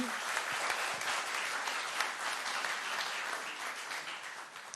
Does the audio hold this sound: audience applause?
yes